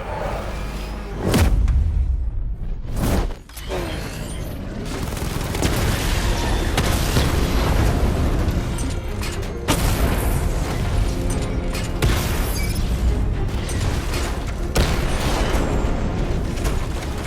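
Heavy 60mm tank cannon fire from heavily armored units in the Batman: Arkham Knight video game, a dense, continuous barrage of booms and bursts with sharp blasts near the start, loud and sustained for the whole stretch.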